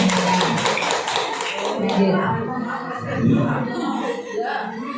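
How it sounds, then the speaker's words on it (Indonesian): A school class claps hands together in a brief, dense burst over the first couple of seconds, then voices talk and murmur in the room. "Tepuk tangan buat Kasinem."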